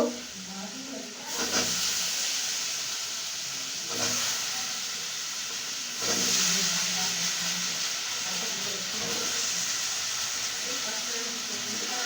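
Cauliflower tipped into a hot pan of prawn curry gives a steady sizzle and frying hiss, with a few stirring scrapes and brief louder bursts throughout, no talk over it.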